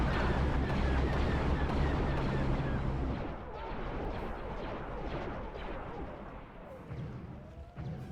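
Rumbling artillery barrage in a Star Wars clone war video game, with a loud sustained roar of shelling easing into a dense crackle of distant impacts and gunfire, and a voice faintly audible beneath the battle noise.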